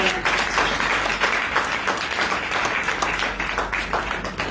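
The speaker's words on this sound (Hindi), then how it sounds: "ताली बजा दो" A church congregation claps together during a sermon in a dense burst of applause, rhythmic and sustained, fairly near and loud.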